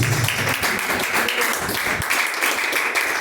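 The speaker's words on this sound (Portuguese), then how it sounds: "Palmas para Jesus." A church congregation applauds together, a dense steady wash of clapping that fills the space, with some voices mixed in.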